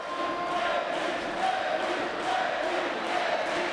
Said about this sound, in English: The crowd is really into this fight. Everybody's on their feet.